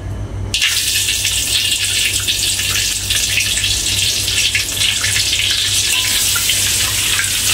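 Loud, continuous sizzling as aromatics hit hot oil previously used for frying fish in a pan, starting abruptly and hissing steadily to the end.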